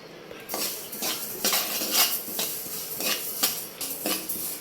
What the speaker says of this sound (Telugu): అవి వేగేటప్పుడు మనకి టపా టపా అనే సౌండ్ వినిపిస్తుంది